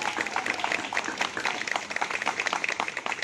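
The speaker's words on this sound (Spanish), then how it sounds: "Es un fuerte aplauso al colectivo Tomate" Audience applauding for the Colectivo Tomate mural collective in Xanenetla, Puebla: a steady, dense wash of many hands clapping for several seconds, moderately loud and unbroken, with no talking over it.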